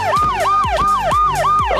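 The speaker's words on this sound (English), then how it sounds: "Oh, Mikey, look, a police car." A police car siren in the Minecraft video game wails loud and close in a fast, repeating up-and-down cycle, heard alone without talking.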